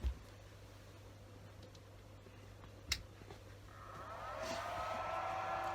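An AP 900 machine starts up. A sharp click comes first, then another knock, then a whirring hum that rises and holds steady near the end over a low background drone.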